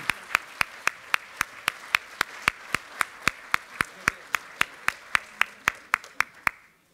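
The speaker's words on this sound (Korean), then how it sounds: "힘찬 박수 부탁드립니다." At a Democratic Party floor leader election gathering, the audience claps in rhythmic unison, about three sharp beats per second, steady and evenly spaced before stopping abruptly.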